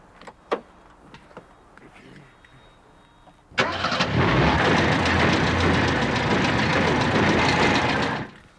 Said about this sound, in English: I think it's time to fire up the engine.